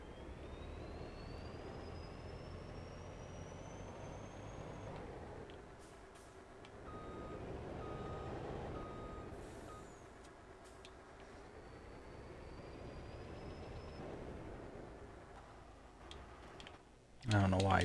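A truck reverses in Farming Simulator 22 while a Manitou loader and low loader trailer wait nearby, its beeps steady under continuous engine drone and faint clicking, with a loud thump at the end.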